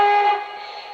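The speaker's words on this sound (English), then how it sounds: "The whistle will sound" A single short, bright Lionel model train whistle blast with a clear steady tone, close and moderately loud, fading slightly before cutting off.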